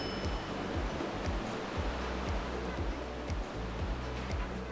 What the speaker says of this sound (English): it's nice to just sit here and admire the beautiful waterfalls